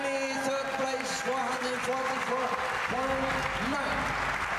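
Audience applause at a women's 3-position shooting European Championship in Bologna, honouring the bronze medal winner from Norway: steady broad clapping throughout, with an announcer talking over it.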